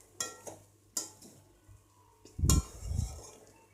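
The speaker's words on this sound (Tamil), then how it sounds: "கலரிட்டு ரொம்ப அப்படியே ஜென்டிலாக கலருவோம்" A spoon scrapes and clinks against a pan while flattened rice (aval) is gently stirred, giving a few sparse, soft metallic taps followed by a couple of duller, fuller scrapes.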